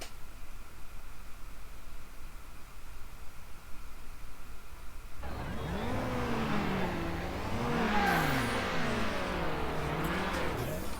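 Street-race car in the video game Need for Speed Underground: a steady hiss gives way halfway through to a loud engine revving up and down in repeated sweeping surges, with no talking.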